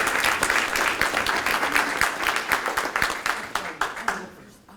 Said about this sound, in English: Let's give our panel a round of applause as we get started.